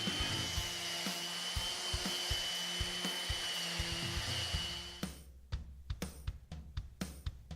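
Steady abrasive whir of a power sander working a pine desk top, loud and continuous for about five seconds, then breaking into short scraping strokes and scuffs.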